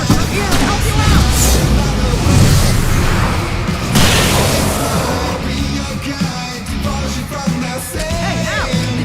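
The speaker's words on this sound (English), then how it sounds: "I can set off more of the fireworks from here and help you out!" Fireworks bursting in Alan Wake Remastered, a dense run of loud booms and pops filling the whole stretch, with shouting and game sounds mixed in.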